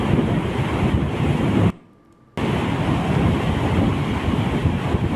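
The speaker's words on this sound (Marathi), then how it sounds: "गोगावती नदीपात्रात प्रचंड वेगानं पाण्याचा विसर्ग सुरू आहे" Floodwater released through the opened gates of Radhanagari dam roars down the Bhogawati river during heavy monsoon rain, a loud, steady broadband rush with a brief dropout partway through.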